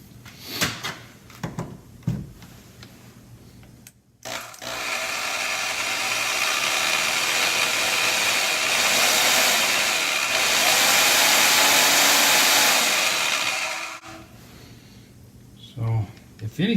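Harbor Freight Bauer bandsaw, which had quit working, switched on for a test: after some handling clatter it runs with a steady, loud motor whine for about ten seconds, then stops, followed by more handling noise.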